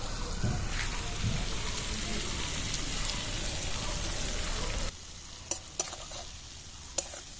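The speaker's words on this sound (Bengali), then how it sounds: "এই মশলা ধুয়ে বাটি ধুয়ে মশলার জলটা এবার দিয়ে দেবো" Spice-rinse water for a tilapia mustard-curd curry tipped into a hot pan, a loud hissing sizzle for several seconds that drops off abruptly, then quieter bubbling with a few sharp clicks.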